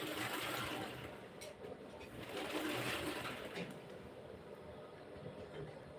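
A sewing machine stitches fabric around a pocket with a continuous close, rapid mechanical whir that dips briefly before running steadily again.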